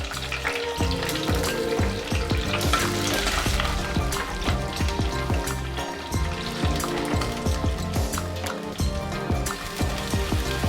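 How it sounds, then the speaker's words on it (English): Sliced onions and green chilies frying in hot coconut oil with curry leaves make a loud, continuous close sizzle with crackling pops, stirred now and then, with no talking. "Then goes in green chilies and sliced onion."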